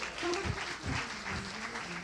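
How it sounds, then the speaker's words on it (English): A church congregation claps for the music, a moderate wash of applause through the hall with a few low thumps and a voice faintly underneath. "Clap it up for some good music"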